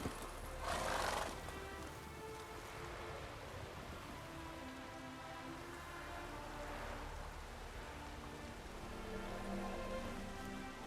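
Roach, the horse in The Witcher 3, gallops steadily with continuous hoofbeats and occasional neighs, set against a rain-like wash of ambient noise, quiet and distant throughout.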